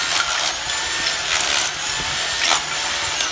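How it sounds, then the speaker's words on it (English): Old plaster being stripped from a swimming pool, up close and loud, with rough gritty scraping strokes that swell and fade in repeated bursts. "Stripping that plaster."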